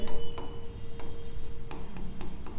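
Pen scratches across paper while writing an accounts entry, a rapid run of close, rhythmic scribbling strokes with small taps between them and a faint steady hum in the background.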